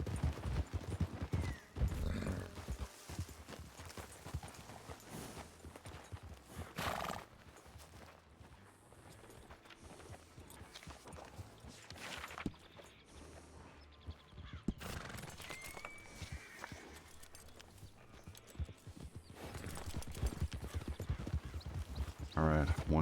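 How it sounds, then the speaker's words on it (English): Horses whinny and hooves clip-clop in an outdoor historical reenactment scene set in 1904, with several neighs and uneven hoof steps under frequent nearby talking. "Bryce, you need to get your horse."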